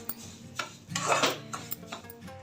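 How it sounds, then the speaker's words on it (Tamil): Semolina being dry-roasted in a pan for rose syrup kesari, with metal utensil scrapes and clinks against the pan, a louder stirring burst in the middle, close and without talk. "இந்த ரவையை வறுத்துக்கலாம்"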